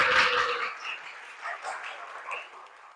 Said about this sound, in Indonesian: Yuk berikan tepuk tangan dulu teman-teman.